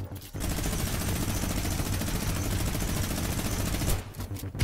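A minigun in the video game Fortnite fires in one long, dense, unbroken burst lasting several seconds, loud and rapid, then cuts off into a few scattered clicks and thumps.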